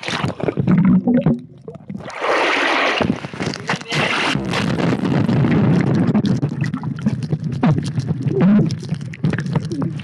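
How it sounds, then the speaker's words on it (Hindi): Water splashes and churns in a swimming pool as a person dips under, loud and close, with bursts of turbulent splashing and muffled gurgling through most of the stretch and a brief voice near the start. "मैं यहां पे अभी डुबकी मार रहा हूं"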